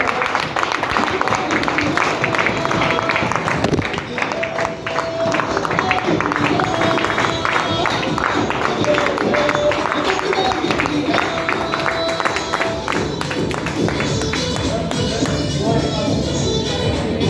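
An audience at a business event keeps clapping for a guest welcomed on stage, producing a dense, steady wash of applause with crowd murmur and a voice talking over it.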